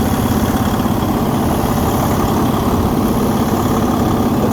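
Semi truck diesel engine idling steadily during a pre-trip inspection, a loud, close, continuous low rumble with an even throb and no speech.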